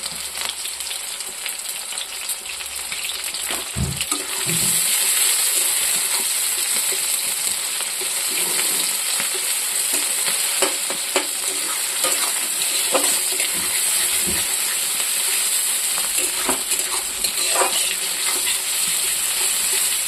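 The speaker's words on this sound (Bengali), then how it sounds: "এখানে তেলটা গরম হয়ে গেছে, এখানে আমি পেঁয়াজ দিয়ে দিচ্ছি।" Onions and green chillies frying in hot oil for a gravy, a continuous loud sizzle with scattered crackles and occasional stirring clinks, steady throughout and close up, with no voices.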